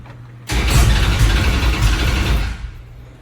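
A nostalgia Superstock Plymouth's engine cranks and catches after a quiet start, then runs loud and rough for about two seconds before dying back down. No voices are heard.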